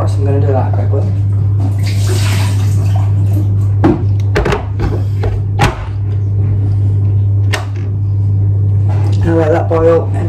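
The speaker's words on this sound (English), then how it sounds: "Fill the kettle up with fresh water, so I'm gonna do that quickly." Tap water runs into a kettle at a sink, a steady rushing stream heard up close with a few knocks and clatters mixed in. A low hum underlies it, and a voice talks briefly at the start and end.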